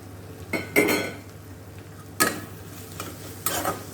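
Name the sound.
stirring bhetki fish in a frying pan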